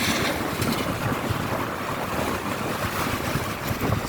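Steady wind rushing outdoors, a continuous broadband whoosh with gentle gusts, mixed with distant water or wave noise and no talking.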